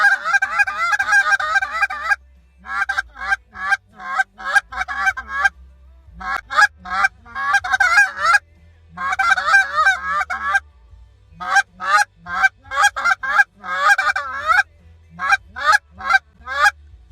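A goose call blown in a fast calling sequence, with rapid bursts of loud, close, raspy honks and brief pauses between runs, sustained for over fifteen seconds with no talking.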